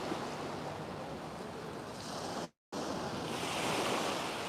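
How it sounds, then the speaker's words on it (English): Sea waves washing onto the coast at Torquay, a steady broad roar of surf with wind buffeting the microphone, broken by a brief dropout partway through; no voices. "it's nice, that sound of the sea, isn't it?"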